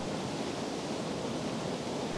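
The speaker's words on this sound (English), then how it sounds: "Such a pretty little waterfall." Small waterfall at Sheep River Falls, fast-moving water in wintry conditions with ice around, giving a steady, dense rushing roar with no breaks, close and moderately loud throughout.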